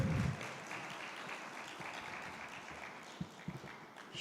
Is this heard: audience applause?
yes